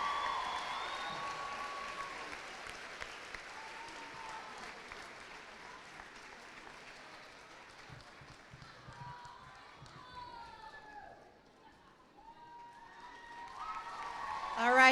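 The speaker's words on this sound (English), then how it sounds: "another big round of applause for these wonderful athletes today" At a cheerleading championship medal ceremony, an indoor crowd applauds steadily with scattered thuds and a voice talking over it, fading midway before swelling again at the end.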